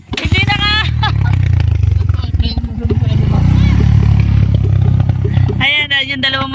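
Two motorcycles ride past close by with a loud, rough engine rumble that swells and then fades, and people talk over the engine noise.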